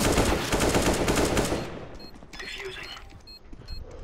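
Loud automatic gunfire in the CS:GO video game rattles up close for over a second, then gives way to quieter mechanical clicks and scattered game sounds.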